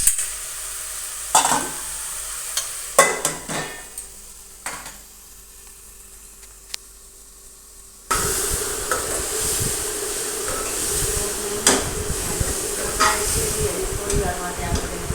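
Green onion and tomato curry cooks in a pan, with quiet intermittent stirring and scraping at first, then a steady loud sizzle that takes over for the rest, no voices.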